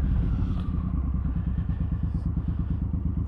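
A Suzuki Boulevard M109R, an 1800cc V-twin cruiser with 128 horsepower, idles and revs with a loud, deep, lumpy pulsing beat, steady and close throughout.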